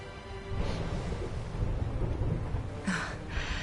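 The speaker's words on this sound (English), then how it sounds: "Would you look at it thundering away out there?" Thunder rumbling in Dragon Quest XI, a steady heavy roll of storm noise with rain, swelling in places, with no voices over it.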